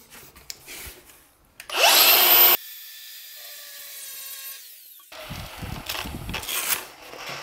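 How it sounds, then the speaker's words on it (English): An angle grinder grinding down a bowed wall plate in a bathroom shower remodel, a loud high whine spinning up for under a second, then quieter scraping and handling noise, with another rough grinding pass near the end. "So I'm gonna just use my grinder,"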